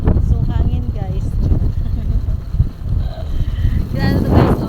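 Strong wind buffets the microphone in a steady roar during a road trip in Bohol, Philippines, with faint voices and a vehicle engine hum underneath.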